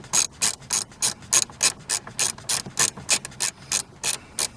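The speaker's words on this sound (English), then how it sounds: "I like this wrench." A ratchet wrench clicks in a steady, rapid run of about twenty sharp, loud, close ratcheting bursts, evenly spaced, with no talking.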